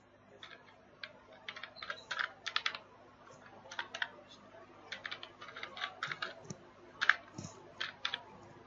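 Text typed on a computer keyboard: a string of irregular, fairly quiet key clicks in quick bursts with short pauses, over a low steady hum.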